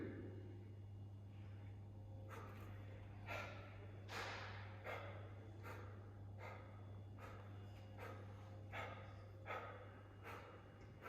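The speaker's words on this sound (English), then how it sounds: "Pay attention to how I breathe, right? I'm warming up my breathing too." Heavy rhythmic breathing during an exercise warm-up, a series of close, sharp exhalations and snorting breaths repeating roughly every second, with a steady low hum beneath and no talking.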